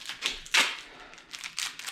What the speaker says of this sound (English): Nice set of keys so I can lock the tools up from Jimmy from taking all my tools